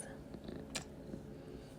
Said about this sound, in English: She's purring, you may hear her in the background.